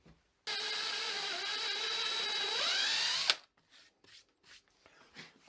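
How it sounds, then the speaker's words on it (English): A power drill bores a grounding hole from under the bridge into a guitar's control cavity, whining steadily for about three seconds and rising in pitch before stopping abruptly, followed by faint handling clicks. "The only hole I have to drill is 1 hole into my control cavity from under my bridge for grounding my bridge."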